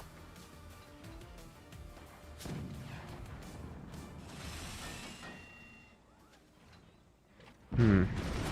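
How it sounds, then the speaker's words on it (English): Cannon fire and explosions in the RTS video game Forts during a 3v3 co-op match, with crashing impacts scattered through and a loud burst near the end over a dense battle din. "Defending the howitzer via cannon fire, well, that's bad."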